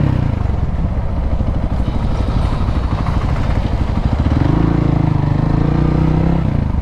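A Hero Xpulse 200 motorcycle riding over a bumpy, bad road, its engine droning loud and close with a steady throb and rattling clatter from the rough surface.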